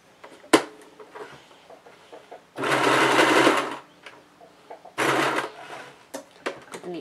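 A sewing machine stitches the seam of a dice bag in two loud, steady runs of about a second each, with small handling clicks and knocks between and around the bursts.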